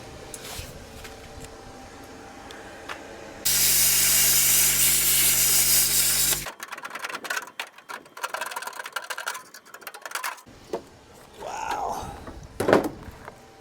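A plasma cutter slicing metal on a VW bus roars as a loud, steady hiss for about three seconds, then gives way to clattering shop noise and scattered metal knocks; a voice exclaims once near the end.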